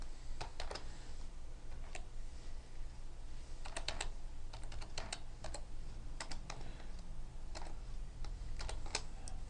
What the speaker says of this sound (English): I'm going to click here, and I'm going to type in